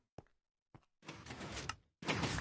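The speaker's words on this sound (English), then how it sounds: "and now it opens the door" Minecraft piston door opening in a video game: a couple of short mechanical clicks, then a sustained sliding, grinding rush and a final loud block-like thunk, close and clear with no talk.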